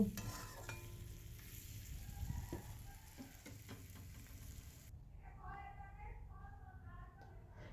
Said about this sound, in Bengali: সামান্য পরিমাণে চিনি দেবো দিয়ে নেড়ে চেড়ে নামিয়ে নেব